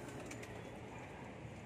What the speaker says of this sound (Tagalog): ang ating mga ibon nagliliparan